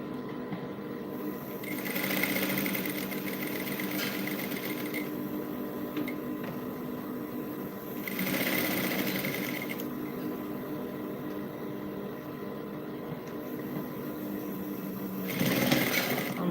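A domestic sewing machine back stitches brocade fabric for a pleated dress, running in steady close whirring bursts that stop and restart several times, with a constant mechanical hum between runs.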